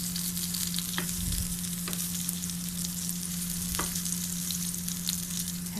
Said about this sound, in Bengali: অল্প তেলে ভাজা হয়ে যায়।